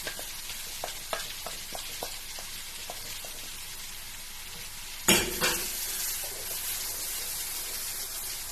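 Onions fry and sizzle in a pan as a utensil stirs them, with a few light scraping clicks early on and then a sudden louder burst of sizzling that settles into a steady hiss.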